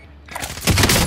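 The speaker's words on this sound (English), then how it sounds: "Coming out shooting at me. I'm getting shot at." Rapid video-game gunfire bursts out in a firefight, starting quiet and swelling into a loud, dense fusillade of shots for about a second.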